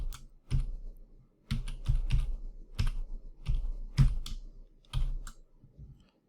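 Keys clack on a computer keyboard as a password is entered for an ESXi host login, coming in short bursts and clustered strokes separated by brief pauses, close and moderately loud with no talking.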